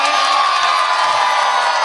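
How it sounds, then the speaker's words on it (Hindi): An audience at a mushaira poetry gathering and award ceremony in Meerut cheers and applauds, a loud dense wash of crowd noise with whoops and shouts, continuous and close. "जोरदार तालियों से शमा का इस्तकबाल करें।"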